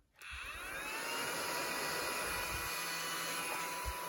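A small WRMK mini glitter vacuum whirs steadily with a high, airy whine after switching on, continuous and fairly loud, with a few low thumps.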